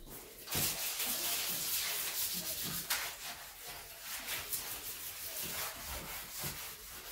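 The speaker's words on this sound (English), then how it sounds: "Now I'm gonna start scrubbing." Sponge scrubbing a bathtub coated with baking soda and vinegar: a steady, close, gritty rubbing that continues without a break across the whole stretch, with slight rhythmic strokes.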